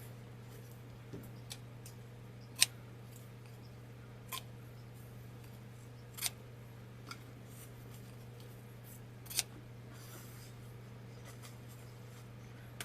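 Sparse, sharp snips from scissors, a handful of quick cuts spaced irregularly over a steady low hum, close and fairly quiet.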